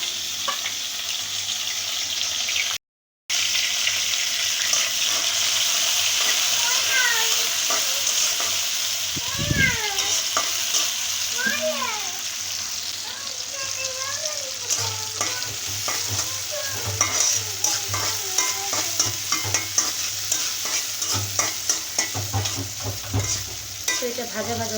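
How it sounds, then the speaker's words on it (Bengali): Green chillies and chopped onion sizzle and crackle steadily in hot mustard oil in a wok, with stirring scrapes and brief clinks over the constant frying hiss and no talking. "এখানে আমি দিয়ে দেব এই যে কাঁচা মরিচ আর পেঁয়াজ কুচি"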